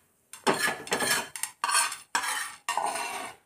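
A spoon stirs coriander seeds and poppy seeds as they dry-roast in a pan, making close, scraping and rattling strokes in about five separate bursts with short gaps between them.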